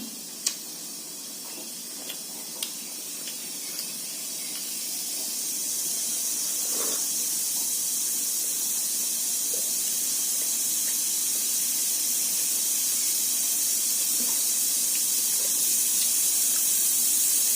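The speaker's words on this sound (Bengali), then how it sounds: "প্রেশার কুকার ওটা ছিটি মারবে এক্ষুনি" A pressure cooker on a stove releases steam as a hiss that swells after a few light clicks and then holds as a strong, continuous rush to the end.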